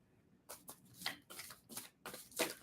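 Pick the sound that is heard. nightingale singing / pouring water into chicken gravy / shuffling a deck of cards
shuffling a deck of cards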